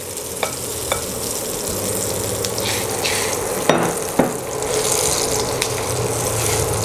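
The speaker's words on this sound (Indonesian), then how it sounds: "Kita mau menggorengnya." Steady frying sizzle of tempeh in egg batter with a few light clinks and scrapes of stirring, close and continuous.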